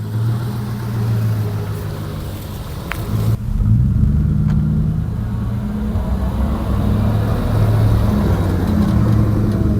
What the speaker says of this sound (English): I'm gonna give it a little more gas. Send it a little bit more than that.